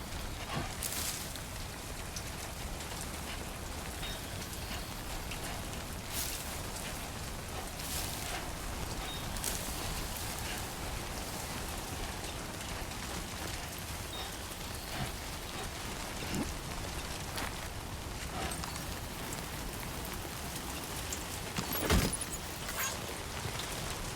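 Steady timefall rain pours down across a wide outdoor landscape in Death Stranding 2, a dense, continuous hiss of drops hitting surfaces with a faint low rumble beneath, loud and unbroken throughout with no voices.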